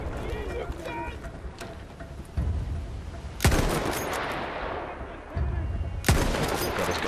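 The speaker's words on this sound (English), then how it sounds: "Rather big machine gun." Heavy machine gun in the Battlefield 1 video game firing in loud bursts, with sharp broadband blasts standing out over continuous battle noise while someone talks.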